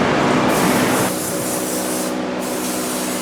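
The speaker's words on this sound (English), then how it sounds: "Now we're spraying the adhesive on there so we can get the new sheathing on" A steady, close hiss of spraying, continuous and fairly loud, easing slightly after the first second and carrying on without a break.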